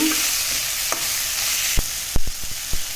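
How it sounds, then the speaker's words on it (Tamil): Tomatoes sauté in a pan for chicken curry, a soft sizzle under sharp scraping knocks of a spoon stirring against the pan, several strokes close together near the end. "தக்காளி போட்டு வதக்கி விட்டுக்கோங்க"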